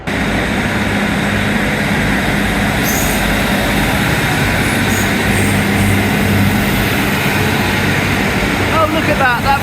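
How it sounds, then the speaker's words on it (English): Blue and green train passing along the line at Dawlish: a steady, loud rumble with wheel and engine noise held evenly throughout, with no talk over it. "that was the blue and green train"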